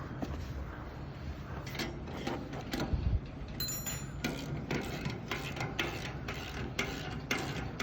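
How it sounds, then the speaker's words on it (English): Final bolts being tightened with a wrench on the timber head section of a barge fall-protection rig, heard as faint ratcheting clicks and knocks over a constant loud outdoor rumble. "Tightening the final bolts on the timber head section."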